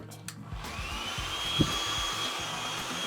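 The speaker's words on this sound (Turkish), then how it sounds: "Mesela bu saç kurutma makinesi Alman 1970'lerin." A 1970s German hair dryer runs with a steady airy whine and broadband whoosh, moderately loud and continuous, with a brief knock near the middle.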